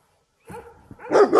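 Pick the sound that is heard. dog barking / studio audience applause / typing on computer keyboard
dog barking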